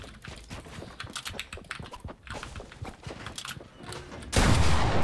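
Rapid bursts of video game gunfire crackle in an irregular stream of sharp, close shots, ending in a sudden loud, sustained blast of noise.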